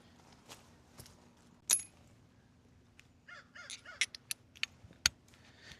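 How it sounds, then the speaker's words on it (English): Several crows caw outdoors in short, sharp calls, a single loud caw followed by a scattered burst of quicker caws, fairly close and otherwise quiet apart from a low steady hum. "Crows are really annoying."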